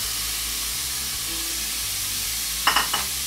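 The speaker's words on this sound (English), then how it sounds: "you can hear that sizzling" Onions sizzle steadily in a hot pan with a constant bright crackling hiss, followed by a few clinking utensil taps near the end.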